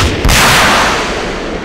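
A rocket launcher fires in ArmA 2, its sharp launch crack quickly swelling into a loud, broad explosion on target that rolls and decays over more than a second, heard up close with no talk.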